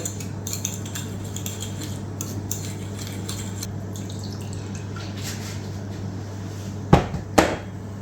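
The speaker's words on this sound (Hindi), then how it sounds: "इसको मैं अच्छी तरह मिक्स कर लूँगा" Fresh chopped coriander is stirred into tawa chicken with gravy, a spoon clinking and scraping against the pan over a low bubbling hum, with two louder knocks near the end.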